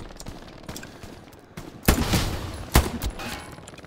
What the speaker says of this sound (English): Where's that MG shooting?